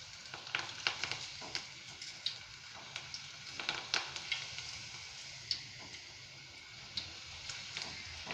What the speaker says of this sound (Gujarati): હવે આપણું આ તેલ છે તે ગરમ થઈ ગયું છે